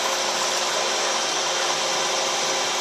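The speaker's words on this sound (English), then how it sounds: "So I'm just going to drill this down through." A radial drill press bores down through a metal part, giving a steady, loud whirring grind with broadband hiss that holds even across the whole stretch, no voices.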